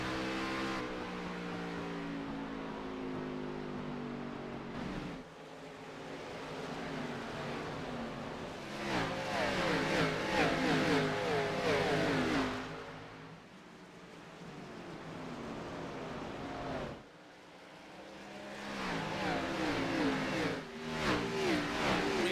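Stock cars race at Richmond Raceway, a continuous loud engine roar rising and falling as cars accelerate and pass, with brief dips between passes and no voices.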